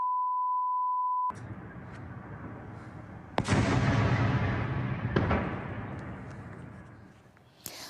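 A steady tone gives way to distant rumbling, then a loud explosion of a missile strike booms and rolls out over Donetsk at night, followed by another blast and fading echoes.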